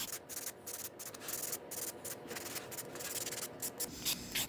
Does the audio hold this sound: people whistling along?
no